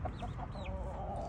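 Young chickens in a coop inside a hoop house cluck and peep close by, giving short chirping calls and a rising squeak over a low rustling background.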